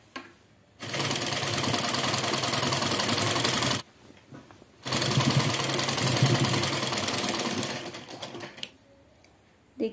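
A sewing machine stitches a four-panel petticoat belt in two long bursts of steady rapid whirring, separated by a short pause and followed by brief stops and a final start.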